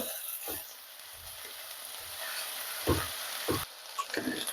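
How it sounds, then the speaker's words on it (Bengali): Chopped garlic and ginger frying together in a pan for a chicken egg vegetable soup, a soft steady sizzle with a few thumps and scrapes from stirring. "রসুনগুলো আমি চপ করে নিয়েছি বাড়ির আর আদা দুটো একসাথে দিয়ে দিচ্ছি দিয়ে এটাকে হালকা ভেজে নেব"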